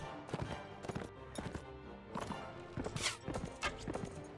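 A horse galloping in the medieval combat game Mount and Blade Warband, with quick repeated hoofbeats in a steady clip-clop rhythm and a loud, close sound.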